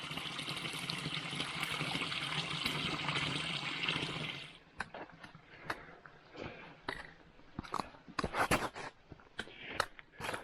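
A small waterfall trickles through a rock crevasse on a forest hiking trail in Algonquin Park, a steady splashing rush for about four seconds that drops off into scattered nearby knocks and footsteps.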